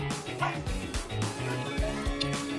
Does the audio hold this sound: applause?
no